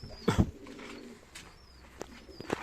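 A few soft coos from play pigeons at a Turkish live bird auction, close and fairly quiet, with scattered small bursts and background rustle and no one speaking.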